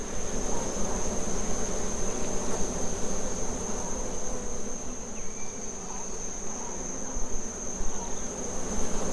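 Dense swarm of flies buzzing steadily around an animal carcass in hot outdoor air, a continuous close drone with a faint high whine overhead and no break throughout.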